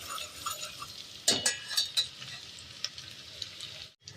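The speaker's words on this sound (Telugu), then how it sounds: "ఇప్పుడు ఇది అల్లం వెల్లుల్లి పేస్ట్ కూడా ఫ్రై అయిపోయిందండి" Ginger garlic paste fries for a pulao with a soft, steady sizzle in the pan, broken by a few sharp clinks and scrapes of a stirring spoon against the metal.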